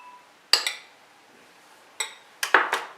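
A utensil knocks against a bowl while cake batter and flour are beaten, a few sharp clinks in two quick clusters with no talk.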